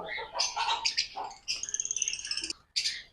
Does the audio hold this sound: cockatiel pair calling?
yes